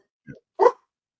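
A dog gives two short barks, a small soft yip followed by a louder bark, fairly close and alone in otherwise quiet surroundings.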